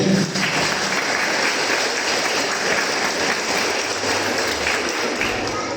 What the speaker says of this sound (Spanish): Aplauso para esta joven.